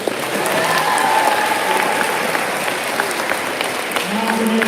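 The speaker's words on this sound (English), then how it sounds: "One more round of applause." An audience at a school semester awards ceremony claps steadily, a dense round of applause filling the room, with faint voices underneath.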